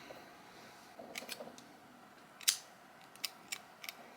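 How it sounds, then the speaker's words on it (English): Scissors cutting yarn in a quiet room, a few soft scattered snips and clicks, one sharper close snip midway, faint and alone. "cut off your yarn"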